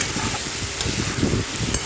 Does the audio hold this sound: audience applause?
no